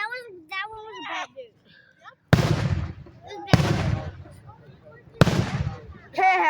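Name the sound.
Fourth of July fireworks exploding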